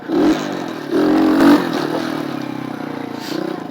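A motorcycle revs in short bursts while lifting into a wheelie, loud and close, with a throaty engine note rising twice and then holding a steady idle-like drone.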